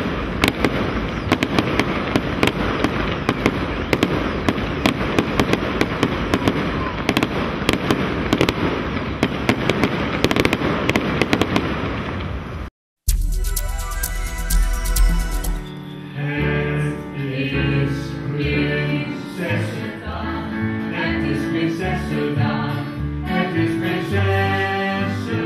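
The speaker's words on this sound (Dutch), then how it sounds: "De openingsdag werd 's avonds afgesloten met een groot vuurwerk." Dense crackling and booming of a large fireworks display at the evening opening of a fair, loud and continuous, then a brief silence before music takes over with scattered bangs underneath.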